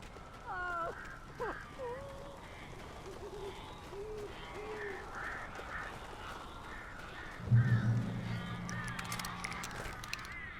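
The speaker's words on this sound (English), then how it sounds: "These birds are weird." Strange birds hooting and cawing inside a cabin in the video game Alan Wake, several calls in quick succession early on, then a low rumble, with ambient game sound throughout.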